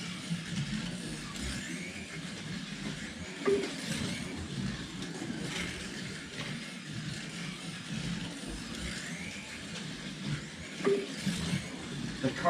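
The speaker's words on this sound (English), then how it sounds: "The car sounds really neat when it goes by me on the straight." Ford slot car from a Ford vs Ferrari proxy race running the straight at a slot car speedway, a steady low hum with faint whine swelling slightly as it passes, continuous and fairly quiet throughout.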